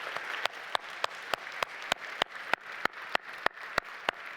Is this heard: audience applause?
yes